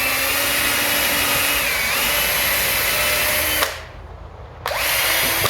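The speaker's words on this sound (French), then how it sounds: "Je perce également le petit trou là, je perce." A power drill whines steadily at high speed while boring a small hole in a magnetic lamp, stopping for about a second and then starting up again, loud and close.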